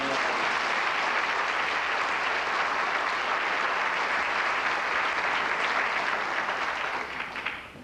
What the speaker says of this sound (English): A round of applause for these young men.